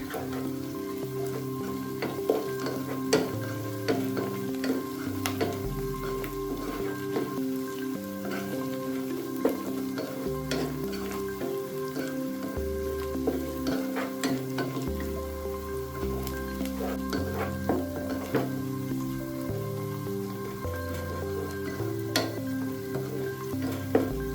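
Mutton and red chilli powder are stirred in a frying pan, giving a continuous soft sizzle with scattered scraping and clinking of the spoon, fairly faint and without talk.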